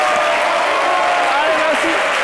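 Steady applause from a studio audience on an Ivorian TV talk show fills the whole stretch, dense and continuous, without any break.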